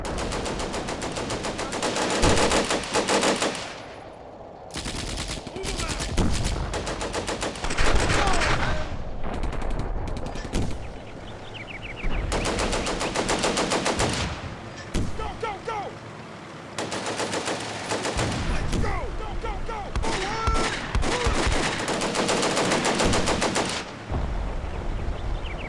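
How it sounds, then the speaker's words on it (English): Sustained machine gun fire from two guns in the World War II strategy game Combat Mission: Beyond Overlord, at La Fiere: dense, loud, rattling bursts with brief lulls and scattered explosions, running almost continuously for the whole stretch. "These two machine guns are targeting them."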